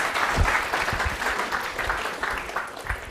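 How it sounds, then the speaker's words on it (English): Audience at a student project showcase gives a presenter a round of applause, a sustained dense clatter of many hands clapping close by, steady throughout. "Let's give a big round of applause."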